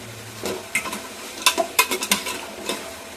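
Vegetables for upma fry in a pan, with clustered scraping and tapping strokes of a spoon against the pan above a soft background sizzle, heard close and without talk.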